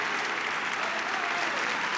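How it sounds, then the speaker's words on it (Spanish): An audience at a tribute ceremony for the Rosario family applauds the siblings, a dense, steady wash of many hands clapping at full volume throughout, with no voices over it. "El aplauso para ellos"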